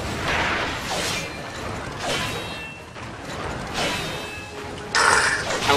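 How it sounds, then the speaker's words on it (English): In the Pacific Rim video game, a giant mech's blade crashes through an opponent's guard and breaks it: heavy metallic smashes and grinding mechanical whooshes recur every second or so, ending in a sharp, bright shattering burst. "blade crashing through the guard and breaking it"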